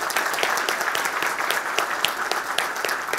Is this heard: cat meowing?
no